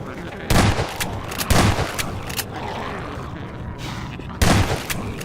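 Shotgun blasts in the shooter MINERVA: Metastasis: three loud, punchy shots spaced a second or more apart, each with a short booming tail, plus a few lighter clicks between them over low background noise.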